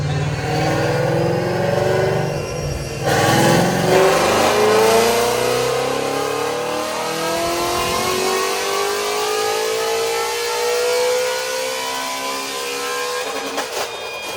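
A car engine on a dynamometer during a pull revs up through the gears, its tone climbing steadily in a long, loud, sustained sweep, with a brief shift partway through and no talking.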